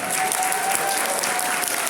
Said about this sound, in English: So how about a huge round of applause for the charity department?